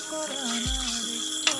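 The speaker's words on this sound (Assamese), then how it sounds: "এতিয়া মই গেছটো অফ কৰি দিম।" A gas stove knob is turned off beside a pot of simmering eel meat in a home kitchen, giving a couple of short, sharp clicks near the end over a steady background hum.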